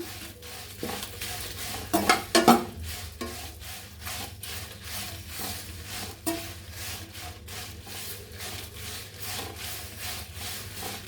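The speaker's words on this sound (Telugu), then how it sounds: "ఎండు మిరగాయలు వేపుకుందాం" Dried red chillies are stirred and fried in a pan for curry leaf podi, giving repeated scraping and rubbing strokes of a spatula against the pan, with a few sharper clinks near the start and no talk.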